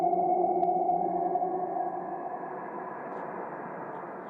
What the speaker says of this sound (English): we're going to put on a very slow auto pan